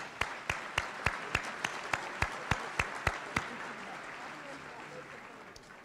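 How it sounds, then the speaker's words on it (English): Applause at a business celebration luncheon arrives as a string of sharp, evenly spaced claps that soon blend into a softer sustained patter, fairly faint in a large room. "Let's give them a round of applause."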